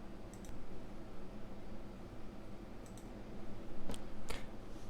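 A few sharp computer mouse clicks, spaced irregularly and fairly faint, with a closer pair near the end, heard over steady low room hiss with no talking.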